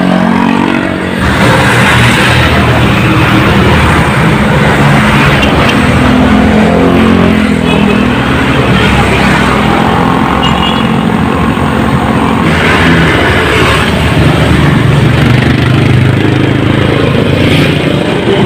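A motorcycle engine running loud and close with the spark plug cap fitted, holding a rough, steady drone that falters and bogs rather than revving cleanly.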